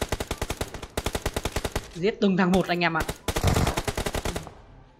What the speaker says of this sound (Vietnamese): Ngoài vẫn còn tiếng súng à